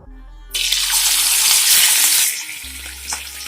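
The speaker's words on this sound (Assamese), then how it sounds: "তেলখিনি গৰম হোৱাত মই এতিয়া মাছ কিটুকুৰাও ইয়াত ফ্ৰাই কৰি লম" Rohu fish pieces rubbed with turmeric and salt drop into hot oil on a stove, bursting into a loud, steady sizzle that holds for about two seconds before easing to a softer crackle, no voices.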